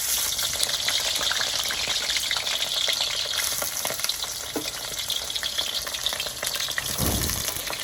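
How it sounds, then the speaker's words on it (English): Brinjal fries in a hot pan with a dense, continuous sizzle and crackle, occasionally stirred, close and steady throughout. "after the pan got hot, you put your brinjal"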